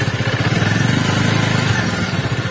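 A Bajaj Avenger 220 Cruise motorcycle pulling away in first gear gives a steady, close, pulsing low engine chug that stays even throughout, with no voices over it.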